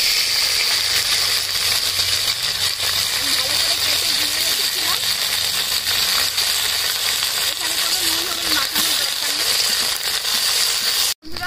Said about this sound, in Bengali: ভেন্ডিগুলো ভেজে নিচ্ছি।